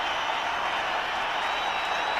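A packed cricket stadium crowd of nearly 50,000 applauding an Indian batsman's innings, a steady dense wash of clapping and cheering that holds unbroken throughout.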